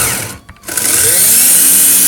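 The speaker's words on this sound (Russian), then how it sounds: "двигатель сейчас работает на максимальных оборотах" Electric sliding gate drive motor briefly cuts out, then spins back up to maximum speed with a loud, steady, high-pitched whine.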